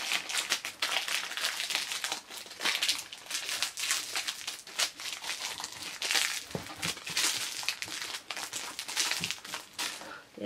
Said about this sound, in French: Il y a du scotch absolument partout.